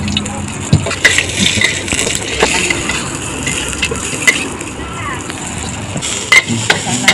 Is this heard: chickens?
no